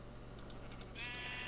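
Minecraft sheep bleat a couple of times, short and faint, over a low steady hum and light keyboard tapping.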